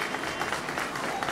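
Outdoor crowd at a patron saint festival in Cajatambo claps steadily, a fairly faint, even patter of many hands with slight rises and dips, briefly and without a break.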